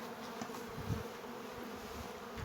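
A close, continuous buzzing of many honey bees humming together over beeswax, steady and fairly quiet with no voices.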